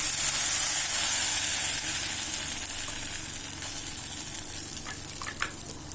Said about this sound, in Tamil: இப்போ இந்த நெய்யில் ஊற்றிடணும்.